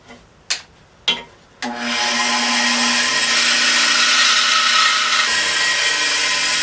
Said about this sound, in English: Now I'm going to rough that out on my bandsaw.